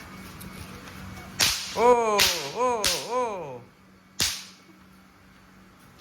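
Snap pop firecrackers thrown on the ground crack in several sharp pops one after another, followed by a fizzing, warbling whistle and one final snap, with a brief exclamation from a voice, during Hari Raya in Kota Bharu.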